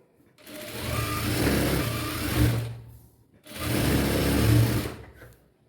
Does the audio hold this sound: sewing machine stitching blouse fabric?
yes